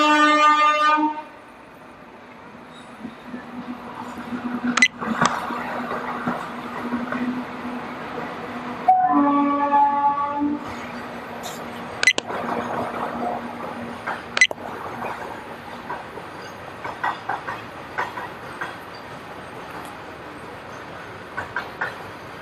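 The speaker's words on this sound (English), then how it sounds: "there is a railway crossing." A train passes a railway crossing on an uphill road on the way to Borra Caves near Vizag, with loud horn blasts near the start and again midway, then a long rumbling stretch broken by sharp clanks and knocks.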